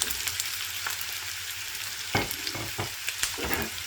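Red and orange capsicum, finely cut carrot and small onion stir-fry over a high flame, a soft continuous sizzle broken by a few sharp clicks and scrapes of a spatula against the pan, close up.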